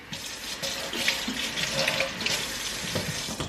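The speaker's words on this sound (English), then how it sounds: "Rinse that spoon off." Kitchen tap running to rinse a spoon while cooking jerk salmon: a steady, fairly loud splashing flow into the sink, close by and heard alone without speech.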